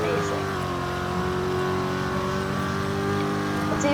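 A BMW engine in the Roblox game Greenville drones at a steady high pitch while cruising, loud and continuous with no gaps, heard alone without talking.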